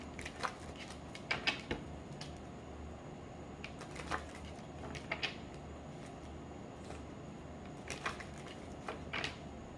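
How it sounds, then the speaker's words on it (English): Tarot cards being shuffled by hand during a reading, giving soft, quiet riffles and flicks that come in short irregular bursts at close range, with no talking. "One more shuffle."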